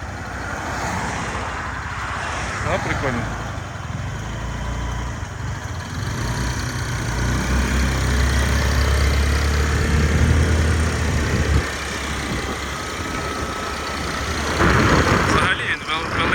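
A 2018 Suzuki Address V125 scooter idles with a steady low rumble throughout, while someone talks over it at close range.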